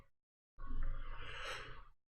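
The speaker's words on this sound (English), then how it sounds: "Yawning." One person gives a single long, breathy yawn after a brief silence, swelling and then fading out close to the listener.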